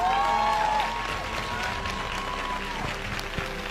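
An audience at a motivational speech in India claps in a dense, steady wash of applause that fades slightly after the first second, with murmuring voices and a brief microphone tone mixed in.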